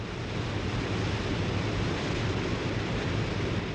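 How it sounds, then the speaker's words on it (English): Victoria Falls on the Zambezi River, the whole river plunging over a cliff into a 350-foot chasm, a dense, unbroken roar of falling water that stays loud and steady throughout, with no voices. "Here, the Zambezi plunges over a cliff and thunders into a chasm 350 feet deep"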